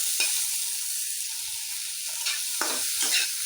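Turmeric-and-salt-coated shrimp fry lightly in a little oil in a pan, a soft steady sizzle broken by a few gentle stirring scrapes near the end, with no talk.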